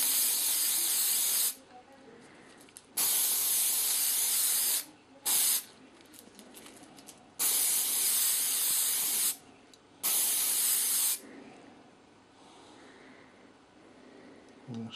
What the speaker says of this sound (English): so we're just going to paint up, spray it black now